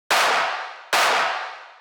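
Two loud techno snare hits made of layered claps, heavily reverbed and distorted, each a thick, noisy full-band blast with a long, slowly decaying wash that runs into the next hit.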